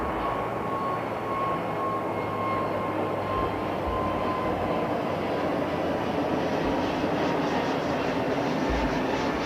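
An airliner taxiing at London Heathrow Airport gives a steady, continuous engine roar with a faint high whine held at constant loudness, with no talk over it.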